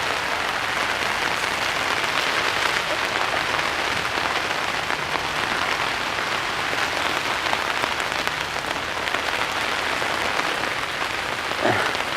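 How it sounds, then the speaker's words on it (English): Light rain patters steadily on a campsite at an outdoor bushcraft show, a continuous soft hiss of drops with no talking. "It's slightly raining."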